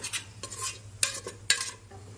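A spoon stirs mudavattukal tuber curry simmering low in a pan, giving several quick scraping strokes with two sharper clinks, close up over a faint steady hum and no talking.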